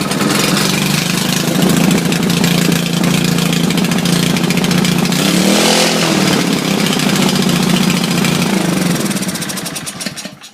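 An Ariens gas snow blower with a Briggs and Stratton engine runs with its throttle stuck wide open, giving a loud, steady, close roar for about ten seconds that rises briefly midway and then fades at the end.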